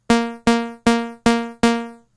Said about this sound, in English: So it has a much more plucky kind of sound to it